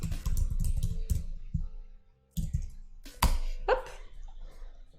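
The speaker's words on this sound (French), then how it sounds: "C'est relaxant la petite musique et le bruit du clavier." Keys clatter on a computer keyboard in bursts of typing, with pauses between them and a few sharper clicks, heard close and fairly quiet under soft background music.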